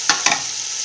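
Carrots and potatoes fry in a pan. Two quick scraping stirs are heard up close, then a steady sizzle runs on alone.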